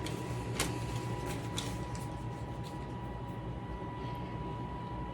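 A KitchenAid stand mixer creams half a pound of butter, giving a steady, even motor hum and whir with faint ticking, heard on its own without talk.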